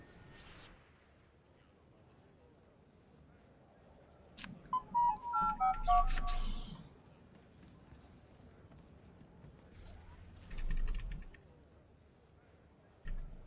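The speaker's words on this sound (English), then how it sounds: "I apologize for my phone's happy sound" A mobile phone plays a short, bright rising notification melody of several quick tones, moderately close, with soft thumps and quiet surroundings before and after.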